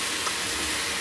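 Spices tempering in hot oil, sizzling steadily with a bright, hissing crackle, close and constant for a brief moment.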